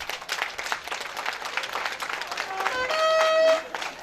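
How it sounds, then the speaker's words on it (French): A crowd applauds at the inauguration of a village borehole in Klologo, Togo, a dense patter of clapping throughout with a whistle briefly rising near the end. "Je demande à toute la population d'acclamer au moins pour cela."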